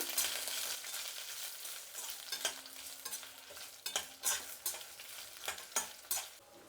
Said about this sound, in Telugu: ఈ మాత్రం కొద్దిగా వేగిన తర్వాత మిరపకాయలు వేసుకుందాం